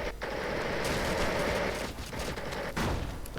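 Machine gun and rifle fire from a real-time strategy game battle between grenadiers and light machine gun squads, a dense, continuous crackle of overlapping bursts with brief gaps, loud and unbroken for a few seconds.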